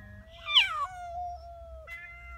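A cat outdoors at a sunny dacha gives a drawn-out, sliding meow followed by a shorter second call, close and clear against quiet low background noise.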